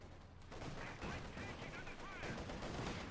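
MG-34 machine gun fire in Company of Heroes 2, a World War II strategy game, rattling in dense bursts amid other battlefield gunfire throughout, with a commentator talking over it.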